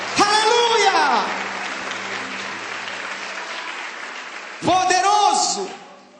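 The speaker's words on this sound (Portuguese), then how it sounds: "dê um forte aplauso a Ele e libere um grito de liberdade nesta manhã" A church congregation applauds in a Sunday service, a steady wash of clapping running throughout, while a voice speaks loudly over it at the start and again near the end.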